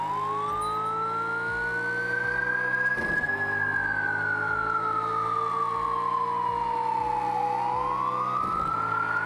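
A loud, steady police car siren in a driving video game glides slowly up and down in long sweeps over a constant engine drone, with faint periodic thumps underneath.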